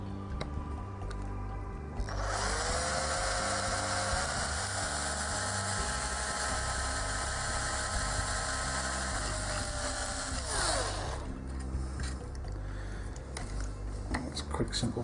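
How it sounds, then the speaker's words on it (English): A handheld electric drill bores a pilot hole, whining steadily at high pitch for several seconds before spinning down, over a low background hum. "Quick simple pilot hole drilled."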